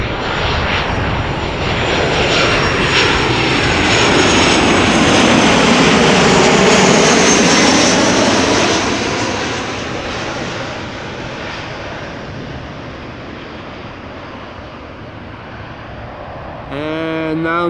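An Airbus A320 passes at Amsterdam Schiphol with a loud, rushing engine roar that swells near midway, then fades into a distant rumble, with a brief voice at the end.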